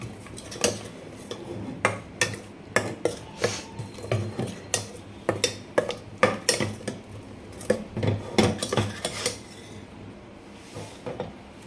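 A spoon scrapes and clinks against a pot as onion, ginger and garlic paste is stirred into mutton curry, sharp metallic knocks repeating in an uneven rhythm with a soft background hum.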